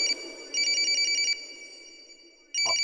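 A telephone rings in a household scene from a Hindi comedy serial: two bursts of bright electronic trilling, the second starting after a short pause, over faint room murmur.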